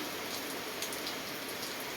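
Storm rain falls in a constant, dense hiss of drops on surfaces, steady in level with no voices or other sounds.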